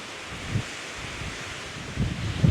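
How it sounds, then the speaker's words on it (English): Strong wind blows steadily across a barren landscape with scattered and uprooted trees, making a broad, continuous rushing roar with a few low buffeting gusts that swell toward the end. "The wind really is quite powerful. It's cool to listen to though."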